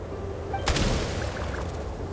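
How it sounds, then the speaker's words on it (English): A single gunshot sounds in a game scene, a short sharp crack followed by a brief rumble, heard at mid-distance against steady background noise. "There's the gunshot."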